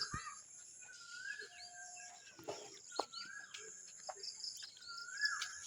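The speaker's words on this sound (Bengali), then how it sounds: "এই সন্ধ্যার সময় পাখিদের ডাক শোনা যায়" Birds call at dusk in a rural Bangladeshi setting, repeated whistled notes and chirps drifting over a steady high cricket drone, faint and distant with no talking.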